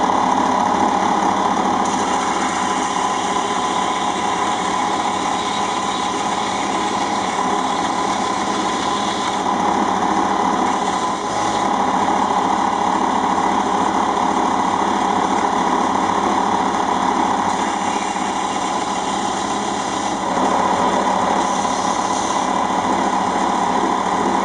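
A bench grinder or similar power tool grinds down a bone blank for a guitar nut, a steady continuous high whine that runs close and loud for the whole stretch, with slight dips in pitch as pressure changes.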